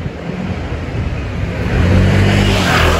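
Audi RS7 driving past on a street, its engine noise swelling from a moderate rumble to a loud, broad roar as it draws near, with wind-like wash around it and no talking.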